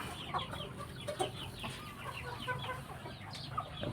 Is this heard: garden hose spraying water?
no